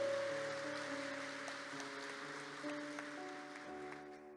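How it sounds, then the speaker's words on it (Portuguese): A church congregation applauds in a broad, even wash of clapping that slowly fades, with sustained organ or keyboard chords playing underneath. "Pode aplaudir ao Senhor."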